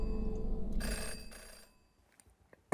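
In the adventure game Jenny LeClue, a telephone rings in two quick bright bursts, then cuts off and leaves a quiet stretch with a few faint clicks.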